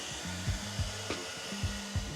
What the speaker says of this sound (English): you can speed up the process by just grabbing a hair dryer